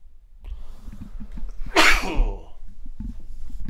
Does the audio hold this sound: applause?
no